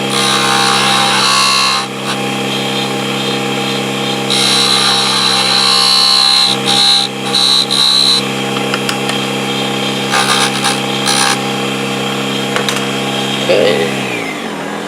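A Proxxon DB 250 microlathe spins steadily while turning a small wooden nutcracker leg. The motor drone runs loud and constant with brief cutting scrapes, then winds down at the end.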